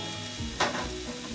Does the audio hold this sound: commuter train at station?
no